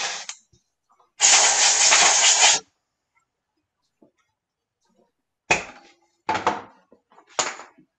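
Compressed air blowing dust off a lacquered wood finish after 400-grit sanding: one loud sustained blast about a second and a half long, then several short, sharp bursts after a pause, close and without talk.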